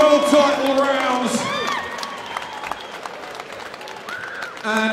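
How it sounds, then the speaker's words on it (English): A crowd applauds and cheers after a five-round women's Muay Thai world title fight at Crystal Palace, clapping steadily under a voice that talks over it at the start. "Round of applause for both of these ladies after 5 grueling world title rounds."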